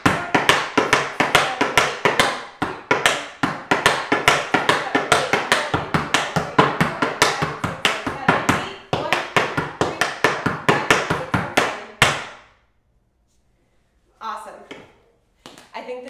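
Tap shoes strike the floor in fast, crisp rhythmic bursts through an intermediate tap routine to Light Switch, loud and close, stopping suddenly near the end before a few brief, scattered taps.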